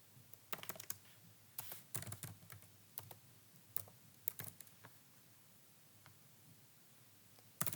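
Fingers type on a computer keyboard in quiet, irregular bursts of close clicking keystrokes, separated by short pauses.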